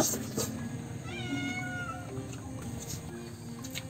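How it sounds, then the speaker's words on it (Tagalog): A house cat meows for food several times, a thin, drawn-out plaintive call heard moderately close. It sits over a busy home kitchen background of clatter and low noise while a Filipino dish is being cooked. "Oh, kahit yung pusa humingi eh."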